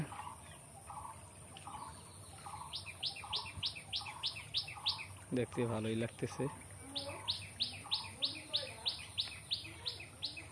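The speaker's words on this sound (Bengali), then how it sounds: "পাখির কল, কিচিরমিচির ডাক," Small birds chirping in rapid repeated trills, with a brief nearby gobbling call in the middle and someone speaking softly once.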